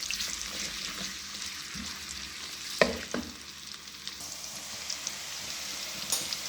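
Chopped onions sizzle steadily in hot oil, with a constant crackling hiss and occasional sharper scrapes of stirring.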